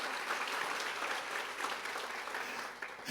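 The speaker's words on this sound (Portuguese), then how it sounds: "Você pode aplaudir o Senhor por essa palavra hoje" Church congregation clapping together in a worship service, a continuous wash of applause at moderate distance that holds steady before tapering near the end.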